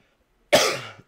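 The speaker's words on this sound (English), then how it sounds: "before I started coughing, I was going to say that I am a little sick right now" One short, sharp cough bursts out close to the microphone halfway through a quiet moment and fades within half a second. No voices are heard.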